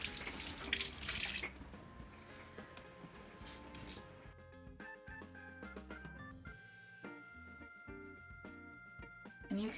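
Tap water runs and splashes over a Black Berkey purifier element as it is rinsed and scrubbed with a sponge, a steady wash over the first seconds that gives way to tonal, musical-sounding hum and clatter in the background.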